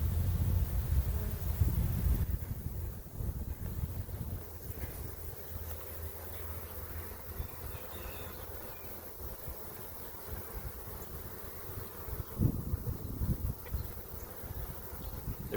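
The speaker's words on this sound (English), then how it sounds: "They're pretty calm bees." A calm honey bee swarm drones in a steady, soft buzz outdoors near a box, with low rumbling wind noise at the start.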